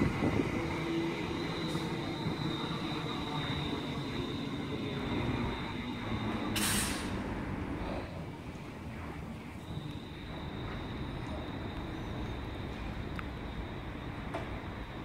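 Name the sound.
Virgin Class 390 Pendolino train passing, bound for Manchester Piccadilly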